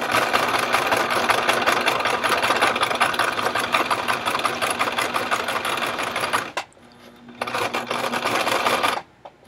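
A sewing machine stitches a denim pencil case in a steady fast mechanical whir, stopping briefly, starting again for a short backstitch burst, then falling silent.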